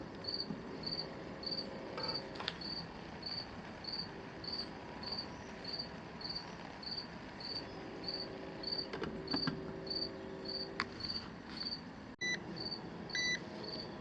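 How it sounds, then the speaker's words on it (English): A steady electronic egg cooker timer beeps in a fast, even pulse throughout, fairly faint, with occasional clatters and a quiet hum in the background. "You can hear the timer."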